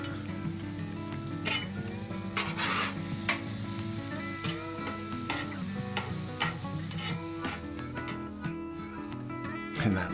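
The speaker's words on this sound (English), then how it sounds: "The peppers and onions will go down first as we incorporate all that goodness together" Cheesesteak meat, peppers and onions being stirred and scraped on a hot griddle, with steady close sizzling, repeated metallic spatula clicks and a low tonal hum or music underneath throughout.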